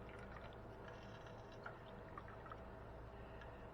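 Water poured from a bowl into a small pan for a miniature chicken soup, a faint, steady trickle with light splashes and drips throughout, heard close and quiet.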